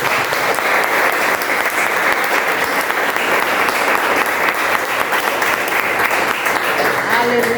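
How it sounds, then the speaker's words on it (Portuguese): A church congregation at an evening service held in a garage claps hard together, a continuous, full burst of applause sustained at a strong level from start to finish. "Você pode aplaudir o Senhor bem forte?"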